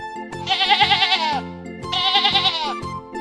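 A sheep bleats twice, close and loud, each call a wavering, nasal cry of about a second with a short gap between.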